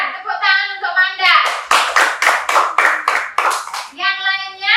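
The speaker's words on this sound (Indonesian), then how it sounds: "Tepuk tangan untuk Manda." Children in a classroom clap together in a quick burst of about a dozen rhythmic claps, loud and close, with young voices chanting before and after.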